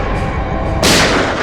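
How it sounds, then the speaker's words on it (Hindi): Gunfire erupts in a Hindi TV crime drama scene: a single loud, sharp gunshot blast cuts in suddenly over a low background rumble and rings out briefly afterward. "ये गोलियों की आवाज।"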